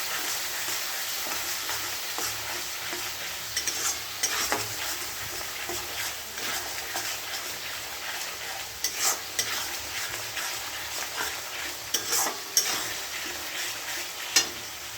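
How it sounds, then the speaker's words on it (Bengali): Spices sautéed with salt and turmeric in hot oil in a pan: a steady soft sizzle, with intermittent scraping stirs and a few sharp clinks of a spoon against the pan. "স্বাদ মতন নুন দিয়ে দিই, হলুদ দিয়ে দিয়েছি। এবার ভালো করে কষে নেব।"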